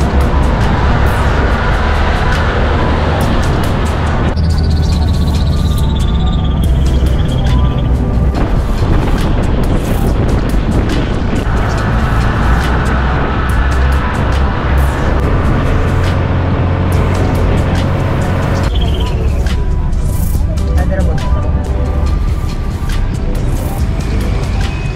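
A jeepney on the road to Tanay, Rizal, heard from inside as a loud, steady engine rumble and road noise that shifts with gear changes, with scattered rattles and traffic sounds and no talk.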